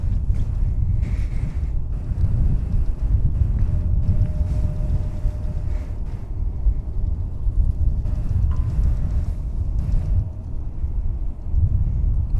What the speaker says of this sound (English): So the winds are kind of shifting around more towards the east-southeast at this time.